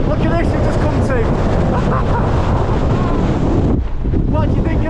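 Gale-force wind on a mountainside in the Langdales, Lake District, roaring and buffeting the microphone continuously and loudly, with a brief lull near the end.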